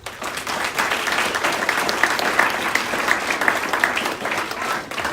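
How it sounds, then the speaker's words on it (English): Audience applause for a group of art educators at a county board of education meeting, steady dense clapping from a room of people sustained at even loudness throughout. "And so please give these ladies a round of applause."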